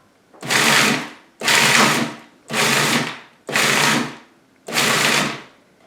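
A food processor pulses almonds five times, each burst a loud, roughly one-second whirring grind of blades chopping nuts, separated by short silent gaps.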